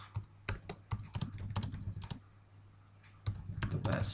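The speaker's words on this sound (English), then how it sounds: "here I can type in a comment" Quick bursts of keystrokes on a computer keyboard as a comment is typed into an Excel spreadsheet, with a pause in the middle before the clicking resumes, close and fairly quiet.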